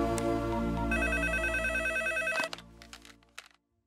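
A telephone rings with a steady electronic tone, loud and close, then stops abruptly partway through, leaving a few faint knocks and rustles before near silence.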